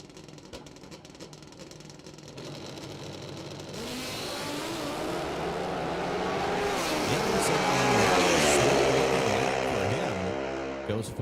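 A pro nitrous drag racing motorcycle, a Pro Open bike formerly in Pro Mod, roars down the strip at a ManCup World Finals event, its engine building from a steady drone to a loud rising wail as it shifts through the gears.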